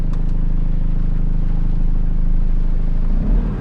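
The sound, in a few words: Toyota Innova second generation engine accelerating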